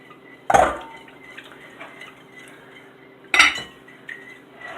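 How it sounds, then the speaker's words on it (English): Empty kitchen bowls pushed aside on a counter give two sharp clinks of crockery, about three seconds apart, close and clear against a quiet room. "Let me move my empty bowls out of the way"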